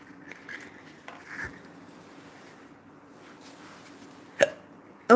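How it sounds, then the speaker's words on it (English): Two short, sharp hiccups sound close to the microphone near the end of a quiet stretch, during an acrylic painting session indoors. "Oh dear, I've got the hiccups."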